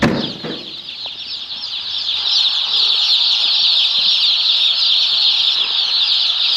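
Chickens flap their wings in a coop, a loud sustained fluttering rush with faint clucks underneath, beginning with a few sharp knocks and then building into continuous close wingbeats.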